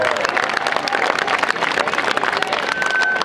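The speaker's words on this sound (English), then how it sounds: "Give them a big round of applause." Crowd at a street rally in Tower Hamlets, London, clapping and cheering in a dense, continuous wash of applause with scattered shouts and a whistle near the end.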